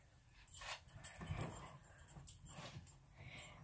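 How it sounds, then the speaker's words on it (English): A dog whimpers and whines softly in a few brief, faint bursts over a quiet room, somewhat distant and intermittent. "Sorry if you hear my dog."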